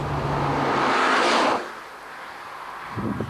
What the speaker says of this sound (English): That means that you can put down the power, like that, and then it's giving to you a lower gear